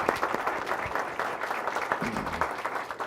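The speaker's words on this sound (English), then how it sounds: "Let's have a round of applause for the ROTC Color Guard." Applause from the audience at a city council meeting for a ROTC color guard, a moderate, steady wash of clapping heard at some distance with a murmur of the crowd.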